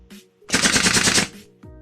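Rapid machine-gun fire in MiniWorld Royale, a loud sustained burst of quick shots lasting under a second, bracketed by quieter game sounds.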